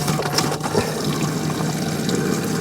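Water running from the sink tap in a camper van, a steady hissing flow with a slight trickling texture, close by and continuous, with no voices.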